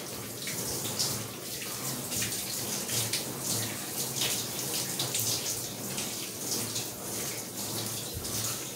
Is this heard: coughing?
no